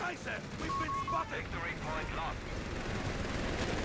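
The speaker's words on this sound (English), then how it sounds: "The machine gun continuing to hold the middle." Machine gun bursts from a Company of Heroes 3 match mix with distant battle rumble and explosions, running under continuous commentator talk throughout.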